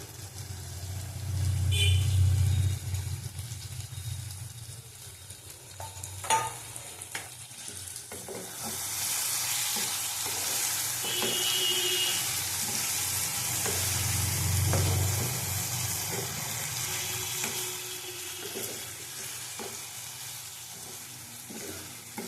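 Pointed gourd pieces fry in a cooked-down spice paste in a pan for potol posto, a steady sizzle with bursts of stirring and scraping that swell louder midway.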